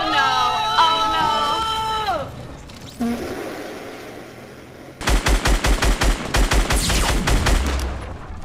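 Gunfire in the Fortnite Battle Royale video game: after a brief stretch of other game sounds, a loud rapid burst of repeated shots rattles out in quick rhythm near the end.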